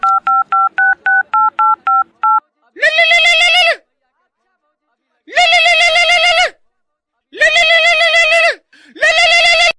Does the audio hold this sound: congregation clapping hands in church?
no